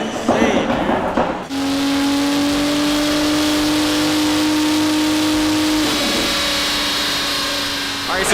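A modified car with a new exhaust idles loudly and steadily at close range with a strong droning hum, after a brief burst of talk at the start, and the tone shifts slightly near the end.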